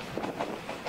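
Series 50 passenger coaches of an overnight train rolling along the rails, a soft, steady rumble with faint rhythmic wheel clatter, heard from inside the carriage at low level.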